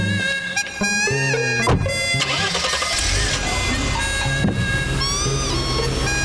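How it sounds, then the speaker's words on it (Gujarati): A CNG car engine cranks and catches, then settles into a running rumble, heard under prominent background music. "પણ ગાડી તો ચાલુ થઈ ગઈ."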